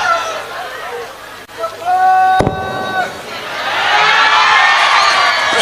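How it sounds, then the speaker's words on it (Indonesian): An audience at a religious gathering applauds for Abah Miftah, a broad wash of clapping and crowd noise that swells in the second half after someone speaks over a sharp crack. "Tepuk tangan untuk Abah Miftah"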